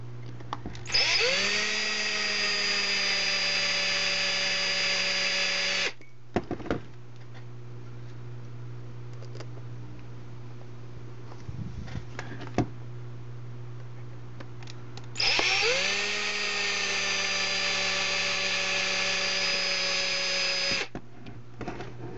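A power drill with trigger speed control drives screws in two long runs. Each burst whines up in pitch as the trigger is squeezed, then holds steady and cuts off, with a quiet steady hum and small clicks in between.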